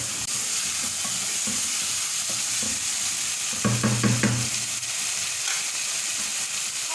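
Spices being stirred into chicken masala frying in a pan, a steady close sizzle with a few scraping stirs of the spoon partway through, no voices.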